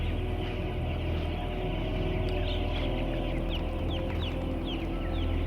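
Chickens and chicks crowd a British chicken farm, producing a constant dense din of high-pitched peeping and chirping over a steady low mechanical hum, with no talking.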